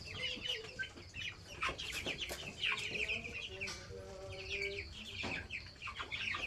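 Several chickens cluck and chatter continuously at close range, with occasional higher chirps over a faint background hum.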